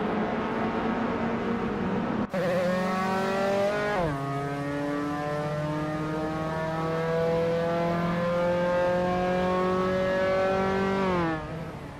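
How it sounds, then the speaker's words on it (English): Engine of a 1983 Toyota AE86 in a racing video game, loud and close, revving steadily with sharp gear-change drops in pitch and sustained high revs, no talk. "Bot Shattered Pixel is racing a 1983 Toyota, a E86, a classic drift icon known for balance and handling."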